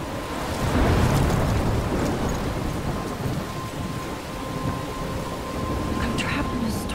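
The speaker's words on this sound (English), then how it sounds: "I'm trapped in a storm?" Thunderstorm with heavy rain in the video game Life is Strange: a steady dense downpour with low rolling thunder swelling early and rumbling throughout, loud and continuous.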